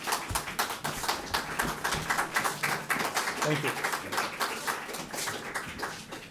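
A small lecture audience claps for a speaker before a book signing, rhythmic individual claps at moderate distance with a voice speaking briefly over the applause.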